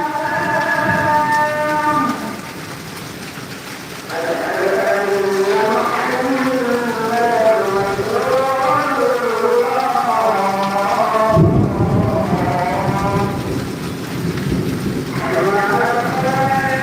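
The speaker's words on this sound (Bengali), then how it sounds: "টাঙ্গালে প্রচুর বৃষ্টি" Heavy rain pours steadily during a thunderstorm in Tangail, a constant dense hiss with low rumbling beneath it. A voice talks over the downpour for much of the clip.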